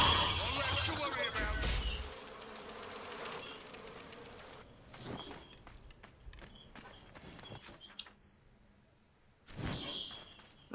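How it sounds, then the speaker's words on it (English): Bees buzzing in the video game Dragon Age: Inquisition, a dense, fairly loud drone in the opening seconds that then drops away, leaving faint scattered game sounds and brief bursts near the end. "Bees."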